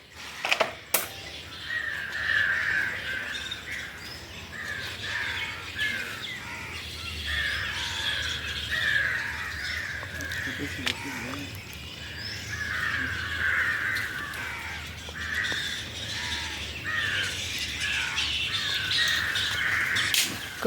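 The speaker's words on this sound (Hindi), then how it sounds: "कौआ मन की आवाज सुना था।" Several crows caw repeatedly from a moderate distance outdoors near a home garden during vegetable harvesting, harsh calls overlapping steadily in a busy rural backdrop.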